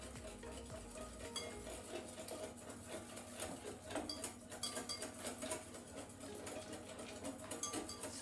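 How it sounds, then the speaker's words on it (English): Cream whisked into crème brûlée custard a spoonful at a time: a steady, fast scraping and clinking of a whisk against a bowl, continuous and fairly close, with no talking. "So add and whisk at the same time"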